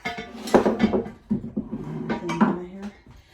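A greased metal cake pan for an apple cake with walnuts clatters and scrapes against a kitchen counter and other cookware in a few close, sharp knocks, with brief speech mixed in.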